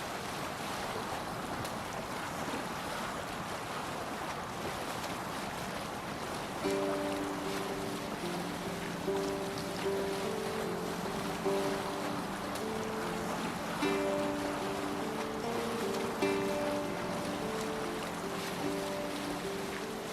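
A ship sails the open sea in Assassin's Creed Valhalla, with a steady wash of waves and wind throughout and soft musical tones rising in from the midpoint.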